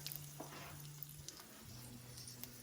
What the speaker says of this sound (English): this is the point where I let this garlic brown up a little, infuse the butter with some thyme